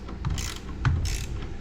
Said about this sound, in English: So I have this Kimo ratchet.